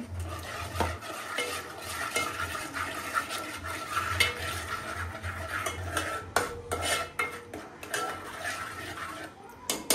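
A spoon stirs salt into a food mixture in a home kitchen, giving continuous scraping and clinking against the bowl, fairly close, with a few sharper knocks toward the end and no talking.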